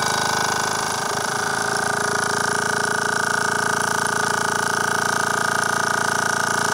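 A Lokomobile steam engine ticking over at an easy pace with its flywheel turning, a loud, steady, dense mechanical beat that runs evenly throughout.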